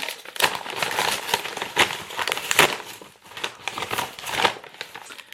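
A package being opened: continuous close crinkling and rustling of plastic wrapping, with bursts of crackle and tearing, loud and busy throughout with no talk.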